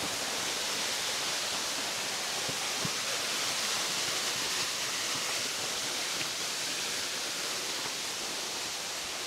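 Steady roaring rush of a waterfall at D' Camp Narvaez in Bailen, Cavite, one of several tiers of falls, a dense continuous wash of falling water filling the whole stretch, close and loud with no voices.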